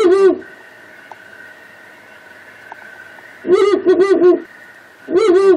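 Deep, resonant Ural owl hoots played back in short phrases: one at the start, a longer series after a pause, then another near the end, loud and close, with quiet background between.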